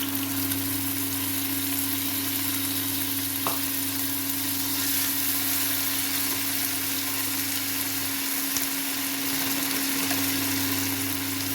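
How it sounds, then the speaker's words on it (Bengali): Onion and ginger-garlic paste frying in a pan as chopped tomato goes in, giving a steady, loud, continuous sizzle over a constant low hum, with no talking. "পেঁয়াজ এবং আদা রসুনের পেস্টগুলো লাল লাল করে ভাজা হয়ে গেছে এখন আমি কেটে রাখা টমেটো দিয়ে দিলাম"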